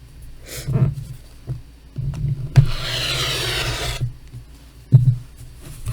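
A rotary cutter slices 2.5-inch quilting fabric strips on a cutting mat, a close scraping rub swelling for about two seconds between softer handling thumps and shuffles.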